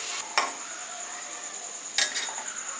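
Red amaranth greens seasoned with salt and turmeric fry in a pan with a steady sizzle, while a utensil scrapes and stirs twice with sharp clinks against the metal.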